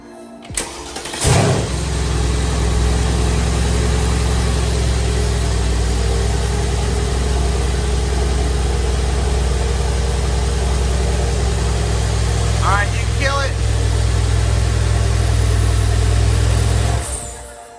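A 2017 Mercedes C63 engine cranks and fires after a click, then settles into a steady, deep idle that runs for over fifteen seconds before cutting off.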